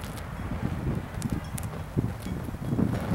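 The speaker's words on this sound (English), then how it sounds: "The wind is really whipping this thing around." Gusty wind of about 20 miles per hour blows outdoors against a small burning cotton-disk fire, buffeting the microphone with low rumbling surges that swell and ease unevenly, fairly close and loud.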